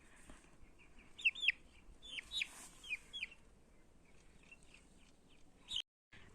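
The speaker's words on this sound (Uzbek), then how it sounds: "Mana o'tgan videodagi kichkina jo'jalarim." Young chicks give soft, high peeps and clucks in several short bursts, close but faint over a quiet background, with no talk.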